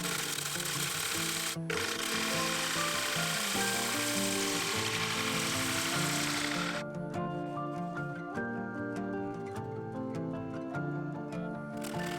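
Steady scraping and shaving of a lathe tool making thin push cuts on a spinning wooden bowl, continuous and close, with the hiss easing partway through to a lighter, ticking rhythm.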